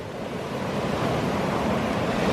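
Water surges steadily over and around a rock, a continuous close rushing wash like surf, loud and unbroken, with no voices.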